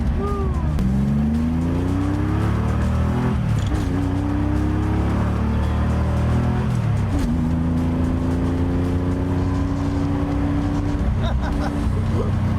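A manual-transmission car engine revs up through several gears, each climbing pitch ending in a shift, loud and close with a rough droning tone and brief voices underneath.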